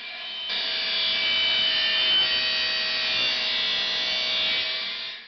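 Table saw cutting wood for the base of a milling jig slider with 45-degree bevels, a sustained close whine that starts abruptly, holds steady for several seconds and tapers off at the end.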